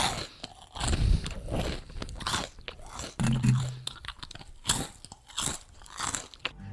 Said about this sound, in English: here are 10 seconds of a person eating cereal, recorded really